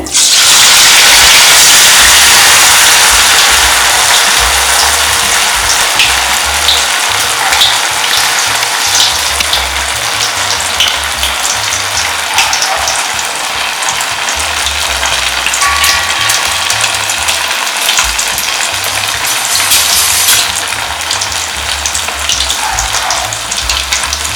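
Fish frying in hot oil sizzles loudly and steadily for the whole stretch, a dense close-up crackle with occasional pops and no talking.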